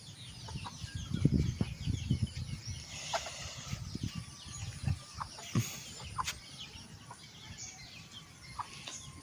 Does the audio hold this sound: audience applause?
no